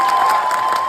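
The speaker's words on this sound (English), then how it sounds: "Look at that big applause there." A televised crowd applauds and cheers steadily for a political endorsement, a dense, loud wash of clapping lasting under a second with a steady tone running beneath it.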